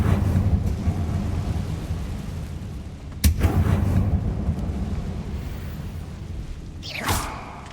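Confringo fire spell blasts go off in Hogwarts Legacy, loud booming bursts over a constant rumbling game background, with a sharp crack partway through and another whooshing burst near the end.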